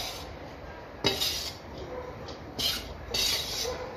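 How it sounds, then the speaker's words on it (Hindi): Rice and vegetables stirred in a tawa pan, with a continuous scraping hiss from the utensil against the metal and a few sharper clanks at intervals. "अब इसे अच्छे से हिलाएंगे, सारी वेजिटेबल्स इसमें मिक्स हो जाएं।"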